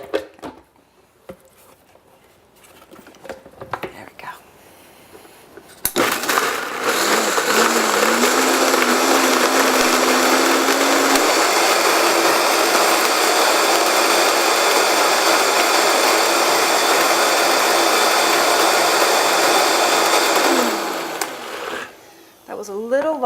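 A blender runs loud and steady for about fifteen seconds, whirring soaked pine nuts, roughly half a cup, into a creamy dressing. Its pitch shifts slightly partway through, and it starts and stops between brief moments of talk.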